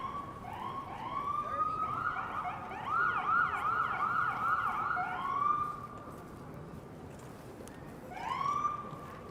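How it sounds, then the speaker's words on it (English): A wailing Boston EMS ambulance siren sweeps up and down repeatedly on a downtown Boston street, fairly close, fading briefly before another wail rises near the end. "Here's an ambulance"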